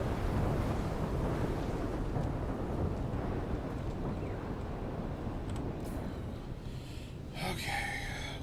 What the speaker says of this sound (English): The wind.